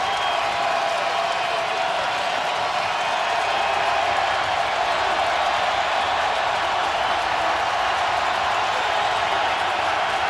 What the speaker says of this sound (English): Sellout crowd in Nashville trying to help the defense